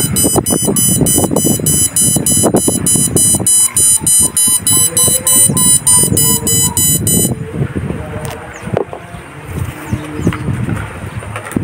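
A steady high-pitched electronic buzzer tone from a smoke-sensor fire alarm drones continuously for several seconds, then cuts off, with voices and background noise underneath.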